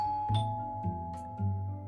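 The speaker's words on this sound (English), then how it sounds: "I hear the buzz of my apartment's doorbell" An apartment doorbell buzzes with a steady, sustained electronic tone that holds through the short moment at moderate loudness, with no voices.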